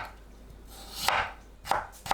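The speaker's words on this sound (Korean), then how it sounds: "감자를 곱게 채 썰어 주세요." A knife cuts potatoes into fine julienne strips on a cutting board, with a few sharp, close chopping strikes spaced apart in a quiet kitchen.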